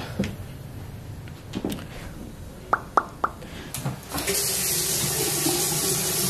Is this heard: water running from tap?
yes